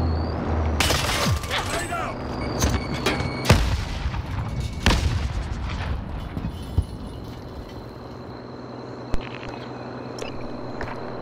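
Rocket impacts and gunfire erupt in Call of Duty: Modern Warfare, with dense booming blasts and sharp shots that are loudest early and then thin into sporadic cracks, while a player talks over the action.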